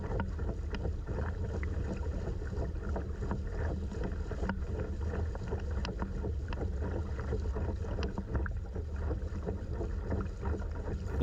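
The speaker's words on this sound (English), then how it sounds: "We'll have to paddle pretty hard against the current to make it to the other side." A kayak paddled hard against the current on Blackstrap Lake; a continuous low rumble of wind and water splashing, steady and fairly quiet, with soft intermittent paddle strokes and no talking.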